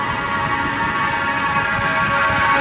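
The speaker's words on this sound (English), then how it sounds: "the sirens want to ruin everything" Emergency vehicle sirens wail along a New York City street, a steady, tonal, fairly loud siren over traffic rumble with no talk.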